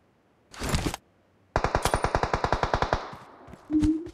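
Rapid automatic gunfire from BGMI: a short burst, then a steady string of about sixteen loud, evenly spaced shots, and a final burst after a brief pause, with no talking.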